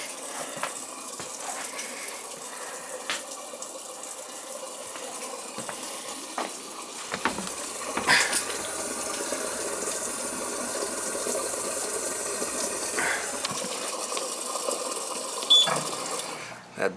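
A commercial dishwasher fills with water in a steady, continuous rush, with intermittent mechanical clicks and clunks over the top, nearby and fairly loud throughout.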